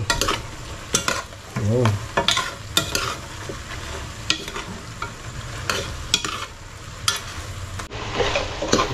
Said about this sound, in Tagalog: Haluin natin siya ulit.